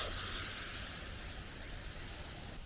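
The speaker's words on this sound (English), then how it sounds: "I'll literally just come out here and spray the hose" A steady, broad hiss of water spraying from a garden hose into a pig pen, strongest at the start and easing slightly, with no talking.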